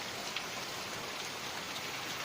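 Heavy rain pours down on a village in a dense, steady hiss with no breaks, loud and close, with no voices.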